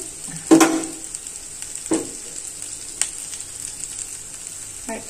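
Hot lump charcoal dropped into a small bowl of ghee gives a sharp sizzle, then a few fainter crackles and pops over a steady low hiss, heard alone and up close while preparing chicken tandoori.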